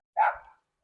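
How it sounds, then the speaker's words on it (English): A single short dog bark outdoors, faint and somewhat distant, picked up by a cheap wireless lavalier mic, followed by silence. "Whether you'll hear things like that barking dog or the birds."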